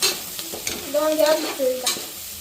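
Food stir-fried in hot oil, sizzling loudly up close while a spoon scrapes and turns it in a few quick strokes.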